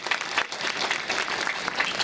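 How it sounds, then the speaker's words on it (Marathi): A crowd of children and adults claps briskly at a school felicitation ceremony, a lively, fairly close burst of applause lasting a couple of seconds. "त्या आत्यासाठी एकदा जोरदार टाळ्या"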